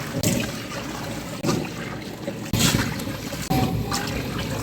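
Water pours steadily into a large cooking pot, about 7.5 kilograms of it for 5 kilograms of chicken biryani rice. A continuous rushing trickle runs close and fairly loud, broken by a few brief splashy surges, with no talk.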